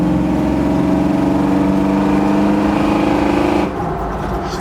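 The engine of a 1973 Ford Bronco runs loud and close, holding a strong steady growl at raised revs before dropping abruptly back toward idle near the end.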